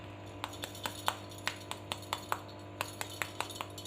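Crispy aloo tikki being handled, producing a rapid series of small sharp crackling taps and clicks, close but fairly quiet, with a low steady hum underneath.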